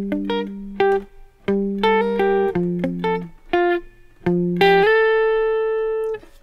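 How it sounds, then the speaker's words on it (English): Guitar phrases played in quick plucked chords and single notes, rhythmic and clear, ending on a ringing sustained chord with no voices. "So when we put together the measure 1 and 2, sounds like this."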